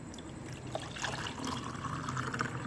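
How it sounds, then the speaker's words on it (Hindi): Chickpea cooking water pours steadily into a cooking pot, a continuous gurgling trickle at moderate level throughout, with no voices over it. "पहले तो हम अपना ये चनों वाला पानी इस्तेमाल करते हैं।"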